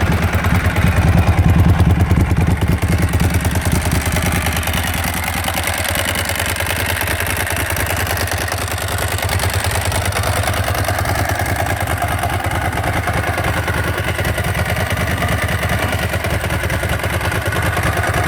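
A 2006 Ducati 749S superbike engine starts and settles into a steady, loud idle, its low rumble and mechanical clatter running close and continuous with no talk over it.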